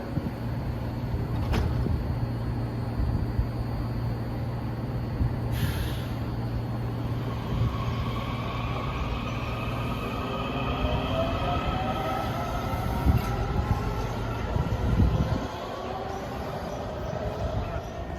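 A set of Breda railcars on the Washington Metro pulls away from a station, a steady low rumble of motors and wheels with rising whines and faint squeals, fairly constant in level throughout.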